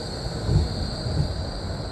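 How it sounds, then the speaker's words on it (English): E Class tram rolling out of Southbank Tram Depot in Melbourne, a steady low rumble of wheels on rail with a faint high whine over it, moderately close and unbroken, no voices. "This is the E Class tram running out from Southbank Tram Depot."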